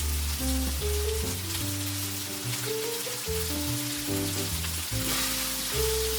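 Pork belly, vegetables and udon noodles stir frying in a hot pan give off a steady, close sizzle, with a light rain-like crackle under a gentle background music track.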